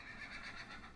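A horse neighing in the video game Minecraft, one short, faint whinny heard alone.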